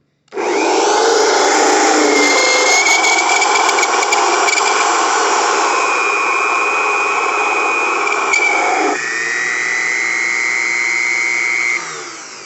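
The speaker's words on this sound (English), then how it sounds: "I'm using this countersink because it has the same taper on the end." A countersink cuts steadily into metal on a Unimat SL1000 lathe while shaping a tap center, giving a loud, continuous grinding whir with a shrill scraping tone that shifts slightly in pitch partway through before the cut stops.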